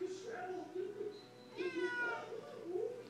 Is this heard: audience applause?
no